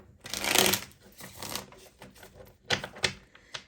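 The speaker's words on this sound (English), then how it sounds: "Let's get one more good shuffle here." Tarot cards are shuffled in quick riffling bursts, crisp and close, with short pauses between.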